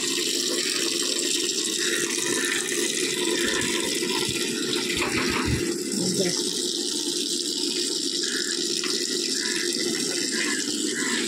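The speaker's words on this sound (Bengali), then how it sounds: "আর ঘর মোছার জন্য জল ভরতে দিয়েছি, হোক।" Tap water gushes steadily into a bucket being filled for mopping the floor, a continuous close rushing stream, with people talking partly over it.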